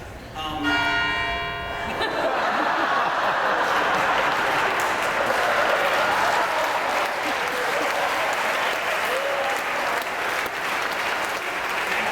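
An audience bursts into sustained, loud applause after a short tonal bell-like chime, the clapping holding steady and dense for around ten seconds.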